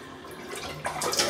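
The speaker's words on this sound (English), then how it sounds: "I'll just wet the brush. Got a little bit of water in here." Water splashes and trickles as a new shaving brush is wetted in a little water before lathering soap. The sound is brief and close, and grows slightly louder toward the end.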